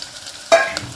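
Chopped onion and garlic hit hot oil in a tadka for Punjabi pakora kadhi, setting off a sudden sizzling burst midway after a quiet stretch, then settling into a steady hiss.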